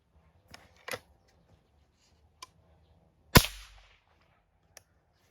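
A single sharp shot from a Chaika air rifle cracks loudly at supersonic pellet speed, preceded by a few small mechanical clicks and followed by a faint click.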